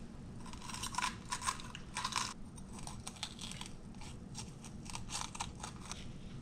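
Crisp crunching bites of a freshly cut spicy banana pepper, a few sharp crunches early then steady close chewing with wet crackles throughout, no voices.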